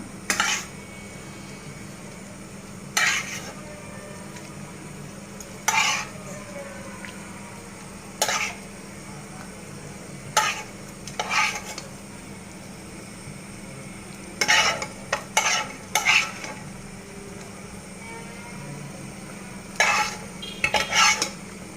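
Catla fish cooking in a pan with taro, stirred now and then, so that sharp utensil scrapes and clinks come in scattered bursts over a low steady simmering hum, close by and without speech.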